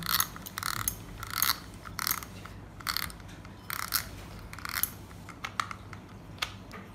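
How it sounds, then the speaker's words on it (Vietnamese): Large fishing reel being taken apart to remove its line spool, a run of close ratcheting, clicking mechanical bursts in an uneven rhythm, with no talk over them. "mình sẽ tháo ra cối cước cho các bác xem nhá"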